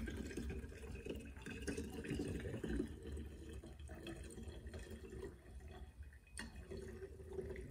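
Liquid pours and splashes steadily from a container during a home test of gasoline for ethanol, a continuous wet trickling with small drips, fairly quiet and close.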